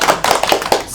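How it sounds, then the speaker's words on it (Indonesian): Classroom applause with several sharp, quick hand claps in a brisk rhythm, close and fairly loud, with no voices. "Tepuk tangan semuanya"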